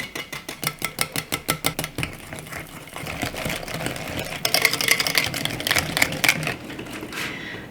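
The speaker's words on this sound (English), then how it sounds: "but I'll just use the whisk." A hand whisk beats gluten-free German pancake batter in a bowl, first in quick, evenly spaced rhythmic clacks, then in a faster, denser rattling scrape, loud and close with no speech.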